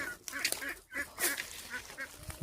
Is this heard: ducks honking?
yes